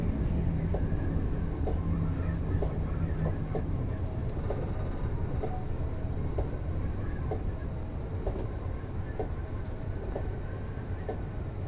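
Amsterdam GVB metro train heard from the driver's cab, a steady rumbling roll of wheels on track with faint regular clicks of rail joints, continuous and even throughout.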